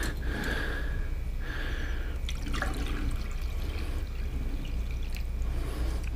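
Water pours and gurgles steadily into a coffee pot, close by, with a couple of brief breathy sounds over the running liquid.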